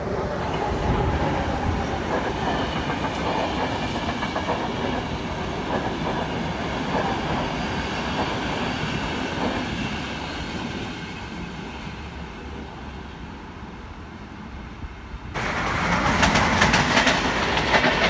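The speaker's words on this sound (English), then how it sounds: "That is a cool colored train." A green freight train with three-digit cars rolls past on the rails near Lamač, a steady loud rumble and clatter of wagons that eases off briefly and then swells again toward the end.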